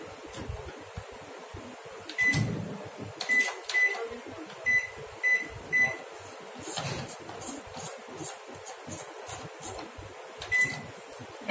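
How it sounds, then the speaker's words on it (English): A microwave oven is set to grill mode for preheating, giving a series of short electronic beeps spaced over several seconds amid faint kitchen clatter, with no one talking. "I'm going to preheat my microwave on my grilling mode."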